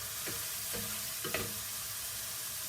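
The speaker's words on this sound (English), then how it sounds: "I've been kind of mashing this up with my fork as I stir it" Browned beef with chili powder is mashed with a fork and stirred in a pot, with a steady sizzle and a few soft scraping strokes at an even pace.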